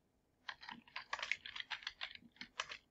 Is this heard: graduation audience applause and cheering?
no